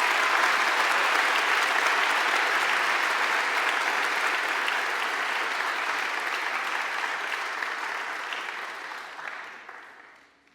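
Audience applause at a 2025 graduation ceremony honoring hall of fame inductees, dense sustained clapping from a large crowd that holds steady and then tapers off near the end, with no speech over it.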